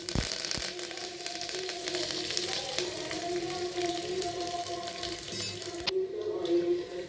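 Dried chillies and urad dal frying in hot oil, a steady close sizzle and crackle that runs the whole time, with faint clinks of a utensil against the pan.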